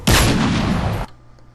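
A gunshot sound effect shifted to a higher pitch in Sony Vegas Pro: one loud, broadband blast lasting about a second, then cut off abruptly into a faint low hum.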